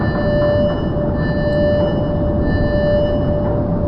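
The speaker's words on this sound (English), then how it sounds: "that is the main door opening to the main airlock" Sci-fi airlock door on a space colony opening, a steady loud mechanical hum with a constant tonal whine and dense rumbling noise running unbroken for about four seconds.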